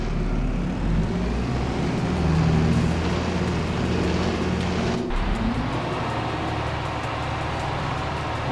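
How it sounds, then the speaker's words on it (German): A tractor engine in the farming video game Farming Simulator 22 drones loudly and steadily through a field pass, its pitch shifting slightly midway before settling into a constant hum. "Der Traktor ein bisschen laut, ne?"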